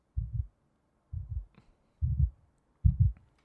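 Heartbeat effect from a cube video game: four evenly spaced, deep muffled double thumps, each lub-dub pair clear and close against near silence.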